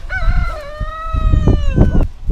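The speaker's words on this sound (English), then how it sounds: "And here's some chickens." A rooster crows loudly and close on a rural walk through farmland, one long strained crow with a few short clucks from nearby chickens mixed in.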